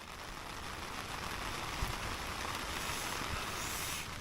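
Rain falls steadily as a continuous hiss and patter, fairly even in level throughout, with a soft thump or two and no talking.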